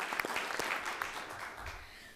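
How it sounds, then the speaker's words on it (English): Applause at a school board meeting, a room of people clapping steadily for a couple of seconds before it begins to thin out. "let's give them a round of applause"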